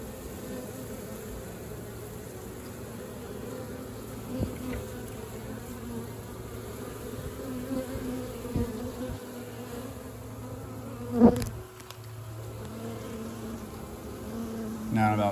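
A honeybee swarm being gathered gives off a steady, dense buzzing hum throughout, close by, with a few soft bumps and one sharp knock near the end.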